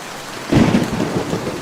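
A cartoon rainstorm with steady rain and a sudden loud rumble of thunder that rolls on for about a second.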